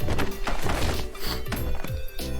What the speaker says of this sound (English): Oh jeez, I just heard a lot of books fall.